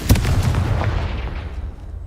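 A Confringo blasting spell exploding in the video game Hogwarts Legacy, one sharp, loud boom up close followed by a rumbling, fading tail lasting about two seconds.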